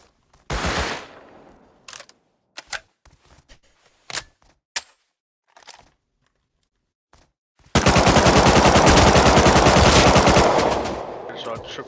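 AK rifle fire in the video game Rust Console: an opening burst, then scattered single shots with gaps of silence, ending in a long loud sustained automatic burst close by.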